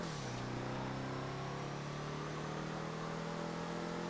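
A Classique Broadway car in GTA 5 Online accelerates hard with a steady, loud engine note, its pitch climbing smoothly over several seconds with no talk.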